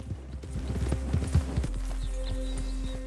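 Horse hooves clip-clop steadily in the Red Dead Redemption 2 video game, a close, rhythmic walking gait over a low rumbling backdrop with a faint tonal hum.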